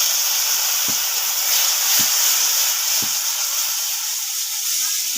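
Water poured into coconut and spice masala frying in a pan sets off a steady, loud hiss and sizzle with faint stirring taps, and no one speaks.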